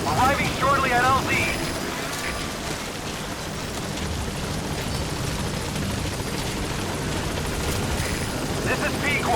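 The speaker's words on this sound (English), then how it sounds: "Support helicopter has arrived." In Metal Gear Solid V: The Phantom Pain, the Pequod support helicopter arrives at the landing zone, its rotor thrumming steadily beneath dense background noise, with brief radio-style voices near the start and end.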